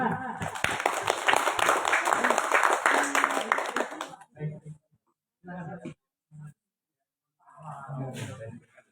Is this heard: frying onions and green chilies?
no